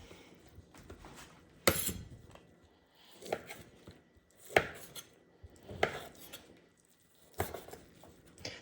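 A knife chops beef fat trimmings into large, chunky cubes on a board. Several distinct close thuds and cuts fall at irregular intervals, with quiet handling sounds between them and no talking.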